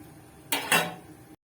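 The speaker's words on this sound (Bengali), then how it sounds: "এবার মেয়ের টিফিনটা যাই আমি প্যাক করে দিই" A school tiffin box being packed in a home kitchen, giving two quick close clatters of metal dishes and cutlery, brief and loud, with no talking.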